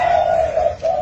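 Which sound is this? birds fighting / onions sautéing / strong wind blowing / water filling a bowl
birds fighting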